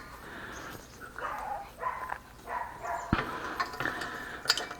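A dog in a kennel barks in a series of short, uneven bursts, with a few higher yips and whimpers between them, at moderate distance over a steady low background hum.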